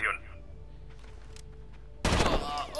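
Gunfire in the tactical shooter Rainbow Six Vegas, a loud burst of shots erupting near the end after quieter game ambience with faint scattered clicks.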